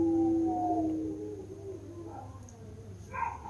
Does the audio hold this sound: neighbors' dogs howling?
yes